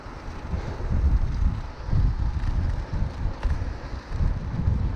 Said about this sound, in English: So the wind at the minute isn't as strong as last week behind.